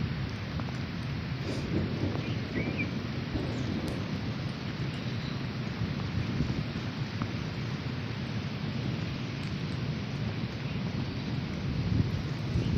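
Unseasonal March rain with thunder in the Konkan gives a steady, dense downpour roar with low rumbling throughout and a few faint sharp ticks.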